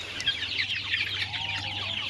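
Farm chickens cluck in a run of quick, soft calls, fairly quiet and close, with no talking over them.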